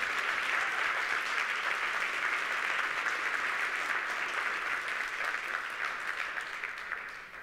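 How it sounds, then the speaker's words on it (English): Sustained audience applause at a college employee excellence awards ceremony honoring service year recipients, a dense steady clapping from a large crowd that gradually fades toward the end, with no talking over it. "would you give everyone a huge round of applause?"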